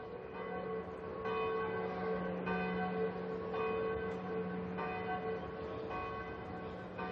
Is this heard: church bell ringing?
yes